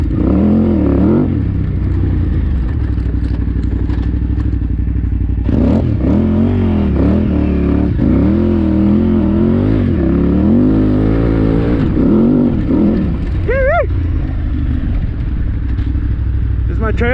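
A KTM 990 Adventure motorcycle rides sand trails, its engine loud and close, revving and easing as the throttle changes, with wind buffeting and a rider talking over it.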